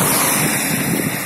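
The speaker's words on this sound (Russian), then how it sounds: "Ветер такой холодный." Cold wind blows outdoors, a loud, steady rushing roar buffeting the microphone with no voices.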